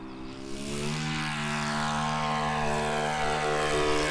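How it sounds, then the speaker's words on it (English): A propeller airplane engine drones loudly and steadily nearby as the plane lands, its deep hum holding constant throughout with no voices. "the plane's landing now"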